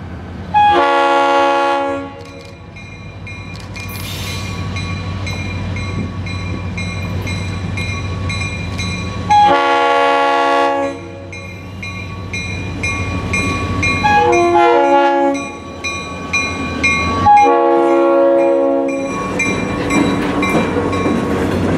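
Florida East Coast Railway freight train 960, a Pompano switcher, rumbles past close by with rail noise, blowing its loud multi-tone horn in several long blasts spread across the pass.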